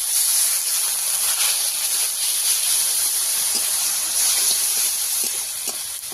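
Water poured onto fried ginger and dried-chili paste in a pan for a pangas fish curry, giving a steady, loud, broadband hiss that holds for about six seconds and eases slightly at the end, with no talk.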